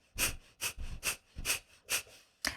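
Rapid, forceful breaths pumped through the nose as a yogic breathing exercise, six sharp bursts in a quick even rhythm, close and clear with no talking.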